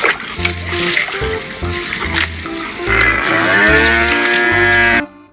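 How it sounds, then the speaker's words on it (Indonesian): A calf moos loudly and repeatedly at close range, with long drawn-out bellowing calls alongside splashing water sounds. "Wow, ini anakan sapi,"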